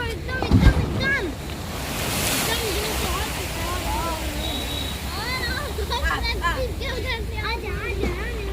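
Ocean waves rising and surging ashore, a constant roaring wash with wind buffeting the microphone, while people talk over it.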